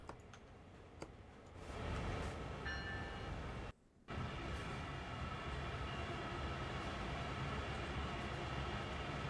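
A long freight train rolls on the Horseshoe Curve in the Train Sim World 2 game, a steady rumbling clatter that cuts out for a moment near the middle and then resumes at an even level.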